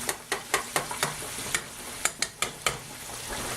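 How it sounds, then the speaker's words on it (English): Butter sizzles softly in a frying pan under a quiet, steady hiss, with about a dozen sharp utensil taps and scrapes against the pan in an uneven rhythm, close by and without speech. "I'm going to put some butter in this pan"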